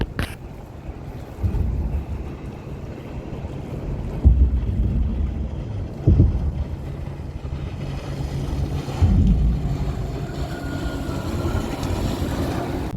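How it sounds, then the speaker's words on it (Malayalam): Boats rumble past on the water, with the engine noise swelling and fading a few times, as gusts of wind buffet the microphone. "ബോട്ടുകളൊക്കെ പോകുന്നുണ്ട്"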